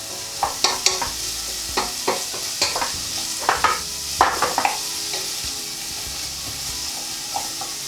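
Vegetables for a lentil bolognese sauteing in a pan, a soft continuous sizzle broken by repeated scraping and tapping as they are stirred, no one speaking.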